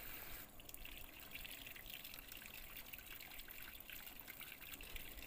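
Eggs are washed under a running kitchen tap, with a steady, faint trickle and splash of water continuing throughout and no talking.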